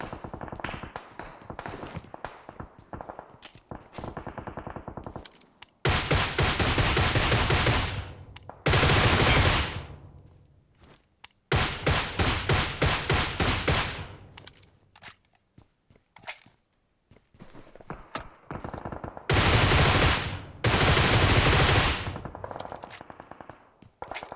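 Bursts of rapid automatic gunfire from the PUBG Mobile game rattle in loud clusters separated by quieter stretches of footsteps and tapping, with several long sustained volleys up close.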